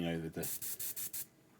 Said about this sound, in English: spray from above like this